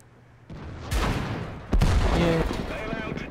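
Artillery fire in the World of Tanks video game: two heavy booming impacts about a second apart, close and loud, followed by rumbling battle noise and a faint tone.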